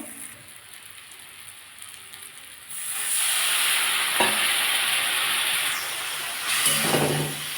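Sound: sautéing dry spice masala in a pan with a little water

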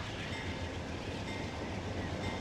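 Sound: train departing in Transport Fever video game

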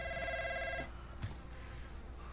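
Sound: telephone ringing in video game Call of Duty Warzone

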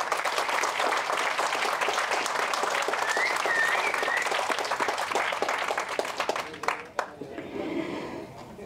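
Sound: audience applause at a film trailer launch

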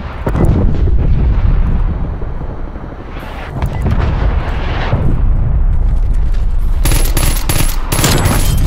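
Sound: artillery strike explosions in Call of Duty Black Ops Cold War video game

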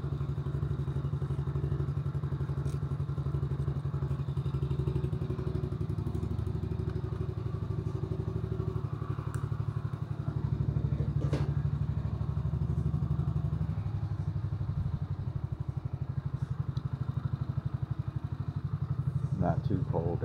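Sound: Grom clone motorcycle being ridden

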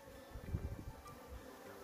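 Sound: honey bees swarming around a crowded hive nucleus

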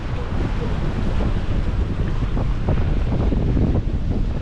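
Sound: wind blowing outdoors on a bridge

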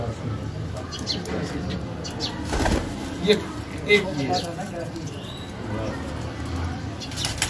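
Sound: pigeons cooing and flapping wings

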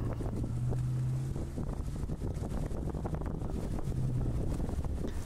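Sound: fishing boat engine passing at sea

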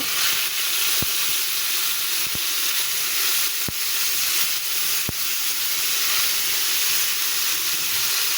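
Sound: fish pieces frying in oil

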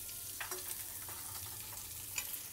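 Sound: paneer cubes frying in butter on a pan

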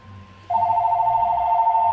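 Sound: phone ringing

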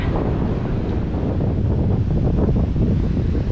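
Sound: wind

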